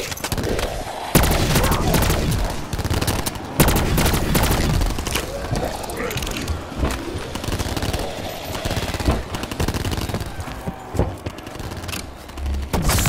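Dense automatic gunfire from Call of Duty: Black Ops 4 rattles in loud, rapid bursts with heavy booming shots, almost continuous across the stretch with brief gaps.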